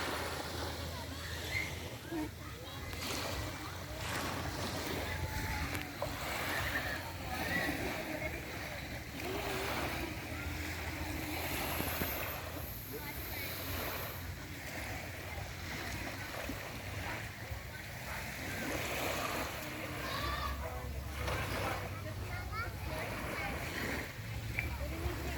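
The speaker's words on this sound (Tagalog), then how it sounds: "Speedboat." A speedboat runs on open seawater off Dumaguete, a steady engine drone and water wash continuing under chatting voices and wind throughout.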